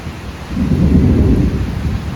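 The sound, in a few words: rain and thunder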